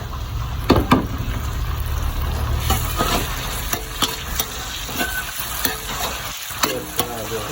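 Chopped tomatoes hitting a hot frying pan and sizzling loudly up close, with scraping stirring strokes and clinks of a utensil against the pan, no talking.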